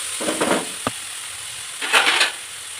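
Chopped vegetables and tomato with salt cook in a pan while being stirred: two short bursts of sizzling and scraping, separated by a single sharp clink, with no talk.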